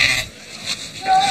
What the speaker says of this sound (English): It's a sheep, and it's being slaughtered.